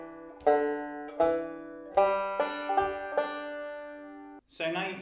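A banjo plays short picked rolls that end with a pinch. The bright plucked notes come one after another, ring on clearly and close, and finish with a fuller struck chord.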